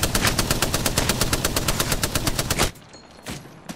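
Rapid automatic gunfire in a multiplayer shooter video game, a loud steady burst of evenly spaced shots lasting over two seconds, then a few scattered quieter shots.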